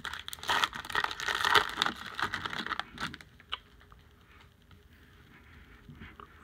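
A 2021 Topps Update hobby card pack is ripped open, a close, busy crinkling and tearing of foil wrapper for about three seconds, then fading to quiet faint handling.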